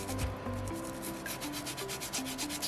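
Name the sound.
sanding a soapstone Moai carving with sandpaper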